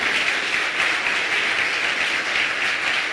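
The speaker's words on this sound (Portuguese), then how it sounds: "Você pode aplaudir o Senhor?" Steady applause from a church congregation during a worship service, a dense, even wash of many hands clapping at full strength throughout.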